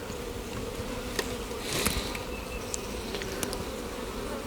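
Honey bees buzzing steadily inside an open hive among frames of pollen and capped queen cells, a dense, continuous close-up hum with occasional louder passes.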